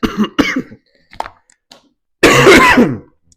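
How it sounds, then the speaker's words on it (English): A few rough coughs and throat-clearing noises, followed by a harsher, louder cough burst, close up with short pauses between. "I just haven't been able to get rid of this nasty cough I have."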